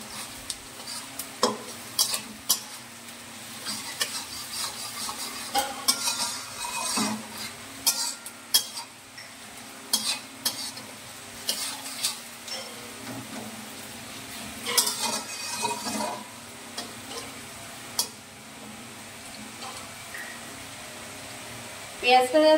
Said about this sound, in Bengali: পেঁয়াজটা আমাদের ততক্ষণ ভাজতে হবে যতক্ষণ না পেঁয়াজটা ব্রাউন হয়ে যাচ্ছে